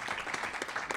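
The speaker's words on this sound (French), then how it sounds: "je vous demande de l'applaudir très fort" Faint, brief burst of audience applause at a student career and employment forum, soft scattered clapping heard from a distance for about a second.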